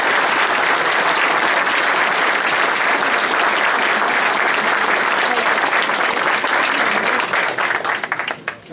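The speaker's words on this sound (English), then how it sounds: "Let's give them a round of applause." Audience applauds the candidates at a mayoral and council debate, a loud, sustained wash of clapping that holds steady for several seconds before fading to scattered claps at the end.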